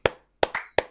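A small group of people claps for a musician guest on a casual music-and-drinks show: three crisp, close hand claps spaced evenly across one second, with no talk over them.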